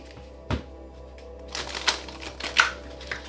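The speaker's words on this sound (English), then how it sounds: "Okay, last shuffle." Tarot cards being shuffled by hand, a soft knock at first, then a run of quick papery riffles and slaps that grow louder toward the end, heard up close with no voices.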